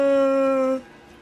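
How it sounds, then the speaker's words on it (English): An enemy dog in Elden Ring lets out one loud, tonal, whining howl lasting under a second before it cuts off sharply into quiet. "This time I aggroed a dog."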